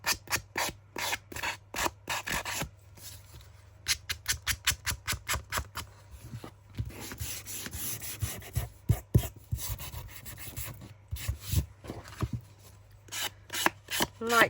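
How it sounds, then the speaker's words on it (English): A hand sander rubs rapidly back and forth along the edges of a paper tag, making a close, rhythmic scratchy rasping in quick bursts with short pauses between them, and no one talks. "Because the sander is our friend."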